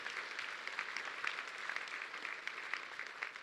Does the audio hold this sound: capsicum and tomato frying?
no